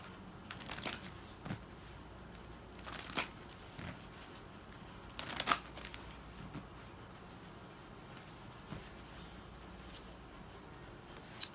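Guidance cards riffle and slide against one another, soft quiet shuffling bursts with a few louder flicks spread across several seconds, with no one talking.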